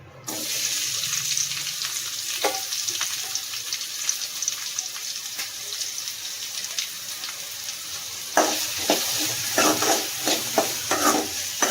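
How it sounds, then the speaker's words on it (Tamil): Chopped onions sauté in hot oil with a steady close sizzle, punctuated by repeated scraping stirs in the pan that grow busier toward the end. "இப்போ நம்ம கட் பண்ணி வச்சுருக்க வெங்காயத்தை சேர்த்துக்கலாம்"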